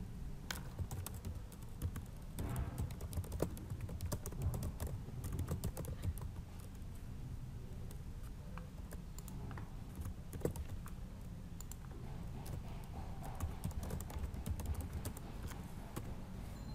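Steady, close typing on a computer keyboard while chart values are entered into a spreadsheet, with rapid irregular key clicks running throughout and no talk.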